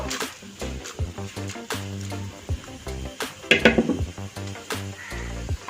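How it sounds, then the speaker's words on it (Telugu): Urad dal, chana dal and mustard seeds fry in hot oil as the tempering for lemon pulihora, with loud, close crackling and sizzling bursts, some sputtering pops, and clinks of a metal utensil against the pan. "ఆవాలు, వేసుకొని ఫ్రై చేసుకుందాం."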